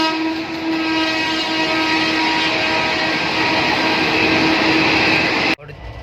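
Loud, continuous rumble and hum of the Geeta Jayanti Express passenger train running in India, heard from on board, with steady rolling noise and tonal whine that drops off abruptly near the end.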